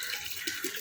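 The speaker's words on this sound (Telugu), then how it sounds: "మా చిన్నోడు చూడండి నీళ్ళు ఎట్లా పడుతున్నాడు" A small child fills a vessel with water from a tap, giving a steady close rush of running water without talk.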